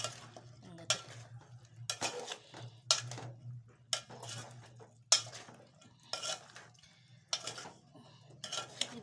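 A spoon stirs mixed vegetable sambar with brinjal and drumstick in a metal pot, making repeated scraping and clinking strokes in an uneven rhythm. The sound is close but quiet, with soft gaps between strokes.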